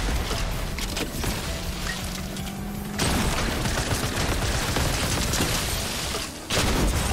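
Rapid bursts of video-game gunfire from Fortnite, dense crackling shots that stop abruptly and then resume, loud and close with no talking.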